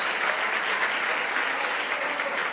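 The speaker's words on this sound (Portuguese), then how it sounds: "Vamos dar uma salva de palmas para Jesus" A church congregation applauds together in a steady, dense wash of clapping that holds evenly throughout, fairly close and with no voices over it.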